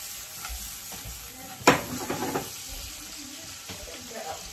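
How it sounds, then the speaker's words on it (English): Italian swordfish sautés in a pan with a crackling sizzle, including one sharp spattering burst when something is moved, amid kitchen stirring and faint background murmur. "Italian swordfish, just a little saute."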